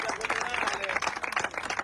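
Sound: applause

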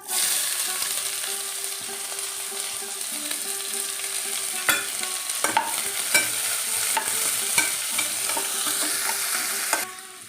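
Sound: chopped onions frying in pan

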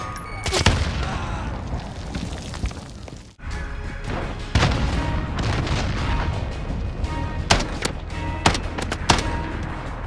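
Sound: grenade explosion in Call of Duty video game

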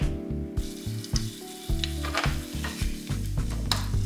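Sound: food frying in a frying pan

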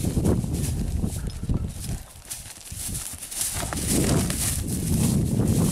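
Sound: horse hooves clip-clop while walking under rider

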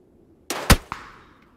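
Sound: gunfire in the video game PUBG

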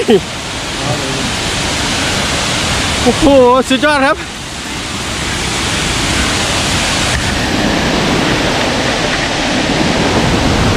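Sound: waterfall

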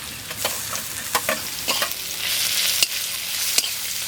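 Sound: onions frying in a pan, garlic paste being added

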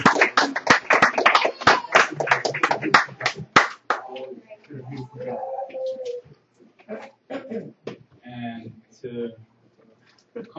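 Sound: applause

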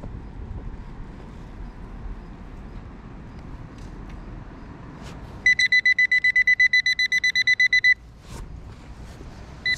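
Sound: metal detector beeping over a buried target

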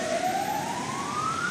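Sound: ambulance siren passing on street

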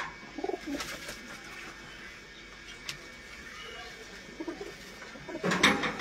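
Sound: pigeons cooing

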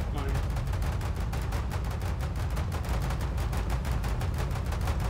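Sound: gunfire from shooting a ship in Foxhole video game

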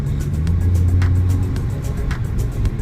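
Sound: Kia New Morning small car test driving over bumps

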